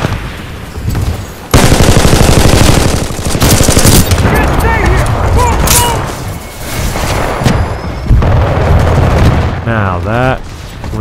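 Loud, sustained automatic fire from the S3G50 gun in Titanfall 2, long rapid bursts with heavy booms and thuds, close and continuous, with brief gaps and a voice speaking faintly beneath.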